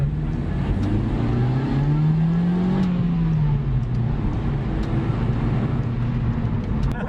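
From inside a 7th-gen Honda Civic ES with a stock setup, the engine whirs and climbs steadily while accelerating in second gear, a continuous moderate drone with road noise throughout.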